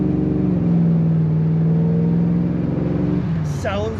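A 1940 Pontiac two-door sedan street rod accelerating, its engine note climbing and holding in a smooth steady drone, close and loud, with a brief higher whine near the end.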